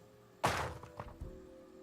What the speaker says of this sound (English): Should I try to bust this door down?